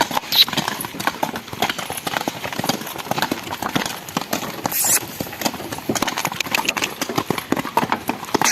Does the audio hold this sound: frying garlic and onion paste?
no